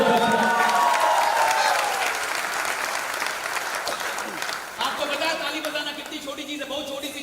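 An audience at a grand launching event for the Papa App Store applauds loudly, with a dense, sustained wash of clapping from a large crowd that gradually thins and tapers off toward the end.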